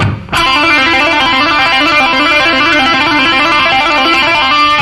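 Fast legato lick on an electric guitar's third string, a rapid stream of hammered and pulled notes in a rock style, loud, sustained and continuous after a brief quiet start, with no talking.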